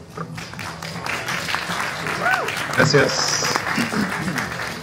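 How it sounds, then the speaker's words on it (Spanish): Audience applause welcoming Cristian (Felipe) Stuardo to the stage at a festival talk, a steady wash of clapping across the clip with a voice speaking briefly over it near the end. "un gran aplauso"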